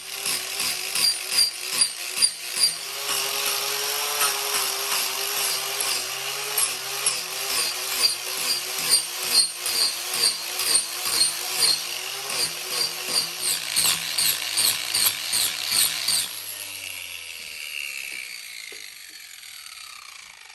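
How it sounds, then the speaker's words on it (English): A power tool grinds into a cedar log for a five-foot bench, a loud, harsh, rhythmically pulsing rasp that carries steadily up close, then cuts off and spins down to a fading whir. "grinding."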